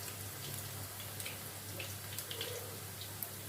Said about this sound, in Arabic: اهي الميه بتاعت الرز بدات تغلي زي ما انتم شايفين كده قدامكم